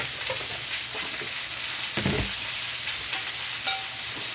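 Sauerkraut being stirred in a hot frying pan: a steady, close sizzle runs throughout, broken by a few soft scraping strokes of the utensil, with no talking.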